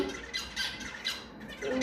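A bulbul gives a few quiet, harsh squawks in short bursts, heard faintly with no talking.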